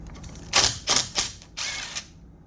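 A ratchet loosens a 10 mm oil line bolt on a Kawasaki KLX300 engine: four short, bright ratcheting bursts, the last one longer, close up with quiet pauses between.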